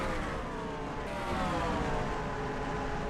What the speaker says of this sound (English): Oh, 40's had an engine problem.